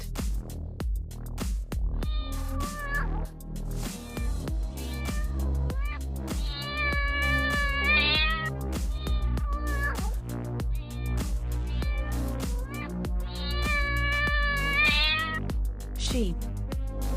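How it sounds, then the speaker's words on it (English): A cat meows in drawn-out, tonal calls, three distinct rising-and-falling meows with pauses between, heard over continuous background music. "Cat."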